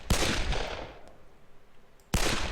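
Pistol shots ring out in the video game Darkest of Days, with two sharp loud cracks, one at the start and one near the end, the first trailing off in a decaying echo.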